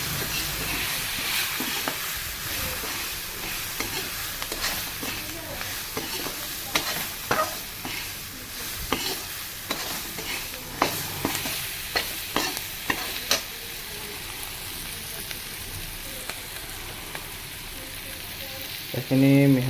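Pork being stirred in a frying pan after salt is added, steady sizzling frying under repeated scraping and knocking of the spoon against the pan, fairly close, with a brief burst of other noise at the end.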